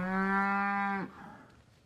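A single long, loud cow moo rings out close by during cattle sorting at a ranch corral on an AI breeding day, holding steady for about a second before breaking off into quiet background.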